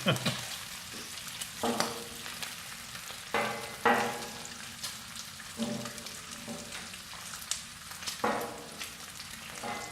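Bacon strips sizzle on a Camp Chef FTG600 flat top grill, a steady close frying hiss broken by periodic louder scrapes and pops as the spatula moves across the griddle; no talking.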